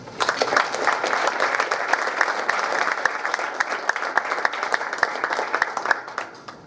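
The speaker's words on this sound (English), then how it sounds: "let's continue the applause for Dr." An audience at a faculty award lecture keeps up continuous applause, a dense wash of many hands clapping that holds steady, then thins slightly toward the end.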